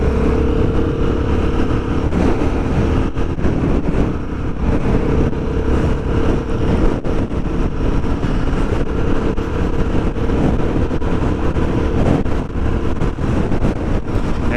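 Royal Enfield Guerrilla 450 motorcycle cruising in sixth gear at motorway speed on a dual carriageway, a steady loud engine drone mixed with heavy wind rush, continuous and close throughout.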